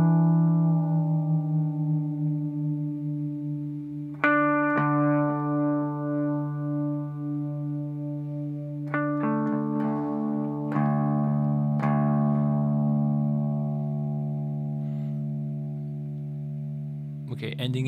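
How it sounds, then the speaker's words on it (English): An electric guitar is retuned to drop D, with single low notes plucked one at a time and left ringing, close and clear, with sustained tones and light effects coloring the sound. "So let me get myself in a good drop D tuning here."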